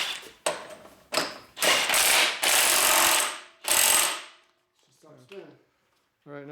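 Ratchet clicking and clattering while torquing parts on a 2004 Harley-Davidson FLHT Twin Cam touring motorcycle, several loud close bursts of rapid clicks, then quiet with brief speech near the end.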